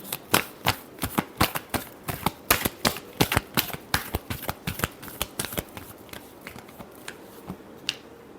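Tarot cards being shuffled in a rapid run of sharp, papery snaps and clicks, close and steady at first, then thinning to sparser taps toward the end, with no voices.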